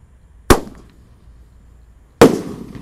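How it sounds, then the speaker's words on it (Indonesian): Two loud sharp reports from a roman candle firework, about a second and a half apart, each a sudden bang followed by a brief crackling tail, heard outdoors at night with no talk. "Kita lihat seperti apa ini roman candle"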